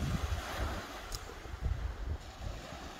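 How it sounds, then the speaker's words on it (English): Wind blows steadily across the microphone on a shingle beach during sea fishing at Southbourne, a gusty low rumble with faint surf-like wash underneath and no speech. "Got a good following wind"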